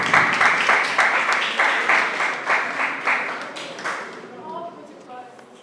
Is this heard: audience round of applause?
yes